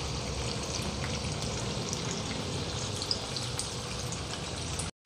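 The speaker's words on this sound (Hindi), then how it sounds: "हमने पनीर डाल दी है और इसे हमें अच्छे से फ्राई करना है।" Cubes of paneer fry in oil in a pan for a Kashmiri lauki and paneer dish, giving a steady, close, dense crackling sizzle that holds evenly throughout before cutting off abruptly at the end.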